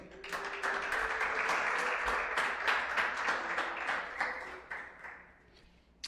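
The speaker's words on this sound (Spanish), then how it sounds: "Denle un aplauso al Señor." A church congregation at a Spanish-language Christian service applauds in a steady, dense burst of many hands that keeps going for several seconds before tapering off at the end.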